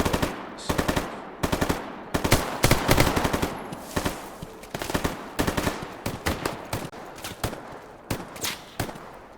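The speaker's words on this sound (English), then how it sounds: "Somebody's taking shots at me with a suppressed weapon." Rapid suppressed rifle shots crack in bursts throughout a Stalker Gamma firefight, loud and close, with steady repeated volleys and short gaps between them, no voices.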